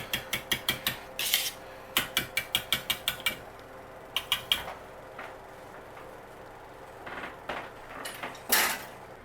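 Cheese and bacon omelette ingredients beaten in a bowl, a fast run of rhythmic clicking whisk strikes against the bowl in bursts with short pauses, close and fairly quiet.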